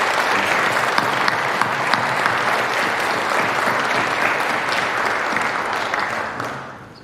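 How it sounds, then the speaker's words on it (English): Audience applause for the mentors at a Phi Theta Kappa honor society induction ceremony, a dense, steady wash of many hands clapping that holds for about six seconds before thinning out at the end. "Let's give the mentors a round of applause"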